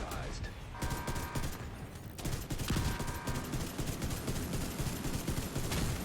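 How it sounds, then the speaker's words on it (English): Gunfire in The Division 2 during a raid boss fight at Iron Horse; continuous dense rapid shooting from several weapons runs throughout, with mechanical game sounds mixed in. "Start shooting"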